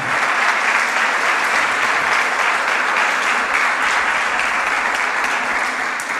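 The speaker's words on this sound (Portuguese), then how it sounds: "Você pode aplaudir essa verdade?" Church congregation applauding during a sermon: broad, sustained clapping from many people, even and fairly loud from start to finish.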